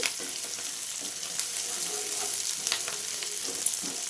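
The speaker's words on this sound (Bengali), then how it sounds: "পেঁয়াজ ভালো করে লাল লাল করে ভেজে নেব" Onions frying in a pan until browned, a steady close sizzle with faint stirring scrapes, no one talking.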